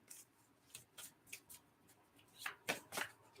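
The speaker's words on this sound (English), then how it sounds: "Last shuffle." Tarot cards are shuffled by hand, with a series of soft, quick riffling bursts, sparse at first and then a tighter cluster of louder snaps near the end, heard close and quiet.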